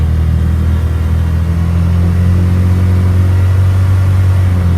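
A Polaris Ranger 570 utility vehicle engine held at high revs around 5000 rpm, a loud, steady, close droning roar with a deep hum and no speech.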